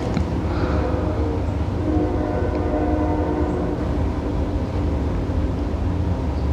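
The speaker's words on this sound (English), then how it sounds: "that train sounds like it's in my back fucking yard" A distant train rumbles steadily with a continuous low drone and layered tonal hum, sustained throughout with no speech.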